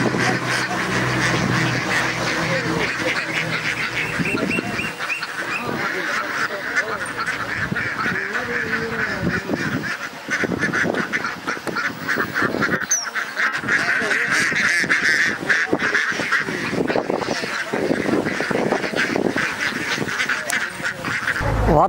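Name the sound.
ducks quacking on a duck farm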